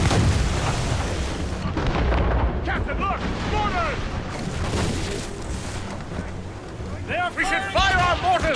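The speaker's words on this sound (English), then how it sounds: "Cannon ready! Fire!" Ship cannon volleys in the Assassin's Creed Rogue video game, rumbling booms and blasts rolling over continuous battle noise, loud and dense, with shouted voices and crew chatter mixed throughout.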